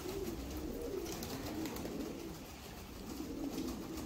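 Pouter pigeons coo in soft, repeated rolling phrases close by, a steady low burbling that continues throughout without any voices.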